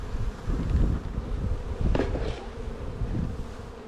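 Honey bees hum in a steady, dense buzz at an open hive during a frame inspection with a smoker, close and continuous with faint rustling and no talking.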